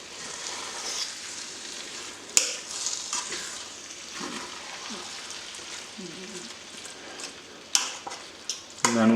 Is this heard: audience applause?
no